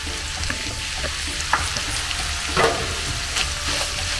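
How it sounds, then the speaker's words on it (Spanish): Tomato and onion fry with ground meat for picadillo, a loud, dense sizzle running throughout with occasional scraping stirs and light clinks close by. "Ya que se cosa bien la carne, van a poner tomate y cebolla."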